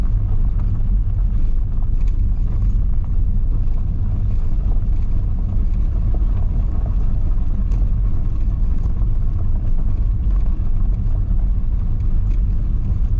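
A car drives slowly along a rough stony track, a steady low engine rumble from inside with constant road noise and faint bumps, no talking.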